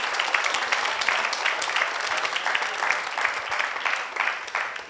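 Sustained applause from an audience at the Premio Asimov 2019 award ceremony at the University of Catania honors the accompanying teachers, a dense, lively clatter of many hands, fairly loud and steady before tapering at the end.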